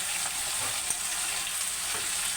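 Vegetables fry in a pan with turmeric and salt while being stirred, giving a steady close sizzle with scattered soft clicks of the spoon and no talking.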